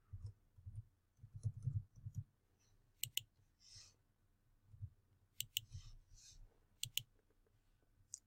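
Mouse clicks while saving a group in account setup software, a series of sharp isolated clicks scattered over quiet, close and distinct.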